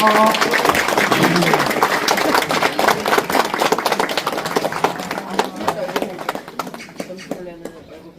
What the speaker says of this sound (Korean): 큰 박수를 보내주십시오